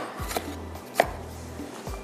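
A knife cuts tomatoes on a board in three distinct chops spaced under a second apart, each with a sharp thud against a quiet kitchen background, with no talking.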